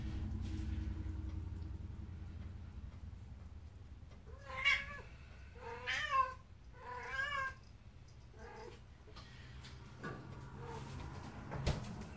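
A cat meows in a home kitchen during cooking, three or four drawn-out meows in the middle stretch, fairly close but moderate in level, over a quiet room hum with occasional small clatters.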